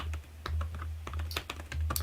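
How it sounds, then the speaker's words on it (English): Typing on a computer keyboard, an uneven run of quick clicky keystrokes, close and fairly loud over a steady low hum, with no talking. "Typing away."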